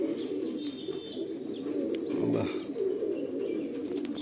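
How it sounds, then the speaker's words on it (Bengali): In a pigeon loft, Andhra pigeons coo softly. One nearer, throaty coo stands out midway over a low, constant murmur of birds, with a few faint chirps. "এত ছটফটে পায়রাটা বারবার বেরিয়ে যাচ্ছে"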